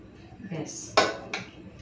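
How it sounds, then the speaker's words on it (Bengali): A lid goes onto a pot of white pulao with ghee: a soft shuffle of handling, then a sharp metallic clank and a lighter second clink, close by. "চলুন ঢাকা দিয়ে দিচ্ছি।"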